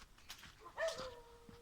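A dog somewhere in the background gives a few faint yips and a short whining bark that rises near the middle and trails off, quiet and distant, with no talking.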